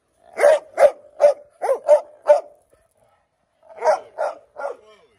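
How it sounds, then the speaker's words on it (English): A dog barks indoors, close and loud: a run of six quick barks, a short pause, then three more. "Now we got Harper barking"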